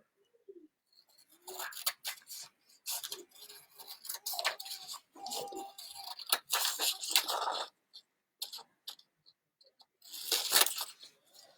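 Scissors snipping through craft paper while cutting out pieces for a paper trolley model, a close run of crisp cuts and rustles in uneven bursts with short pauses between, heard alone without talk.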